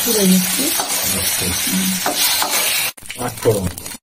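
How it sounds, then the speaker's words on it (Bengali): Rohu fish sizzles steadily and loudly in hot oil in a pan, with a continuous close hiss that breaks off briefly and resumes, with faint stirring scrapes. "রুই মাছ ভাইতে দিয়েছি"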